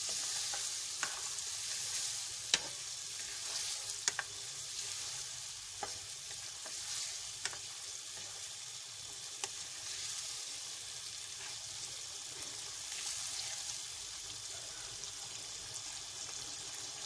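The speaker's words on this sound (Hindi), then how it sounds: "ड्राई करना है इसको भून के" Chicken in green coriander-mint-chili masala being fried dry in a pan: a continuous, even sizzle up close with scattered spoon clicks and scrapes from stirring throughout.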